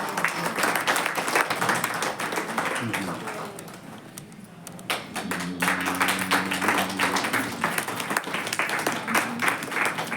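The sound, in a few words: audience applause at an honouring ceremony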